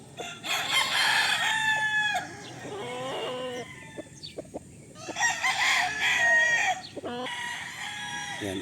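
Tornado Hatch gamefowl rooster crowing repeatedly and loudly nearby, several drawn-out crows with clucking between them and other fowl calling in the background.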